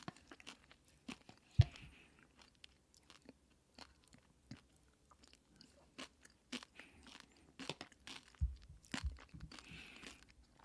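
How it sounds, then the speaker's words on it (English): Close, quiet crunching and chewing of overly crunchy noodles in a thick vegan cheese sauce, irregular bites and munches scattered across the whole stretch with no talking. "The noodles are annoyingly crunchy, though."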